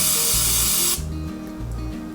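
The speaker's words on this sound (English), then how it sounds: "What we're gonna do is we're gonna spray again." Cooking spray hisses steadily onto a Rollie egg cooker, a loud, continuous aerosol burst that cuts off abruptly, leaving a quieter tonal hum beneath.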